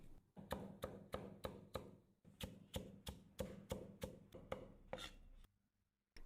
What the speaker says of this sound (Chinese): 去蒂后切片、切条，